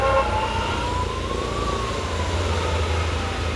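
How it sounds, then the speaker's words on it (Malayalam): An ambulance siren wails steadily along a road, its tone sweeping slowly up and down at moderate distance over a low hum of passing traffic. "ആംബുലൻസ് അതിൻ്റെ സൗണ്ടാണ്"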